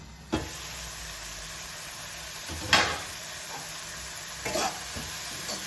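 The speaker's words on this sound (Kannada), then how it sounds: "ಟೊಮೆಟೊ ಸ್ವಲ್ಪ ಬೇಯಕ್ಕೆ ಇಡೋಣ." Tomatoes cooking in a pan for chicken curry, a continuous soft sizzle and hiss punctuated by three brief stirring scrapes, close and moderately loud, no talking.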